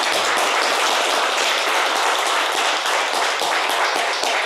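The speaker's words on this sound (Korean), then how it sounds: "박수 한번 칠까요?" A lecture audience claps together in dense, sustained applause, loud and steady for several seconds with no talking.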